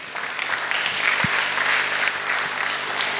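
A church congregation applauds the Lord in a steady, fairly loud burst of clapping that fills the whole moment with no voices.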